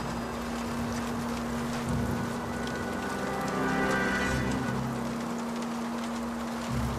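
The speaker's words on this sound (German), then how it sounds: "Natürlich ist es jetzt auch noch dunkel und regnet" Steady rain patters at night in the video game L.A. Noire, a dense continuous hiss with a low droning hum underneath.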